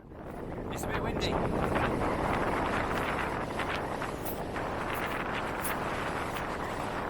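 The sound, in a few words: wind on a mountain path in the Lake District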